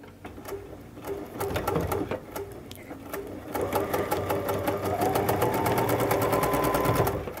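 A sewing machine stitches fabric pieces along a drawn seam line, a close, fast rhythmic clatter that runs continuously and picks up speed in the second half, with no voices.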